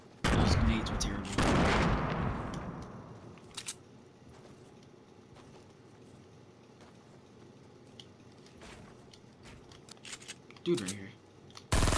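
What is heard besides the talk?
revolver and gunfire in a video game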